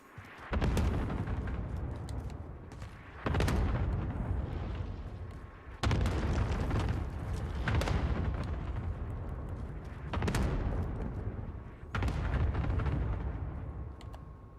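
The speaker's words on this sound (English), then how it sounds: "Airstrike target marked. Take it out. This is Loader 2-0. Good copy. Cluster strike away." Cluster airstrike explosions in a video game, a series of about six heavy booms with long rumbling tails, spaced a few seconds apart and loud throughout.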